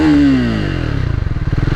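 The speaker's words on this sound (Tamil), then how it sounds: "இதோட இது எக்ஸாஸ்ட் சவுண்டு பார்த்தீங்கன்னா ஆர்பிஎம் சவுண்ட் பார்க்குறேன்." A Triumph Speed 400 motorcycle exhaust revs loudly and close by, its tone sliding downward as the engine drops back into a throbbing, pulsing idle.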